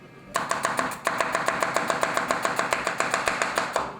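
An onion is chopped with a knife on a cutting board in quick, even strokes, about twenty sharp close knocks in a steady rhythm, heard alone without talk.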